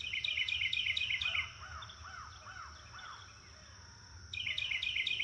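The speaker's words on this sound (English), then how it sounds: "Eagle." An eagle gives a run of about five quick, rising-and-falling calls in a steady sequence, moderately loud, while a rhythmic insect-like chirping plays before and after.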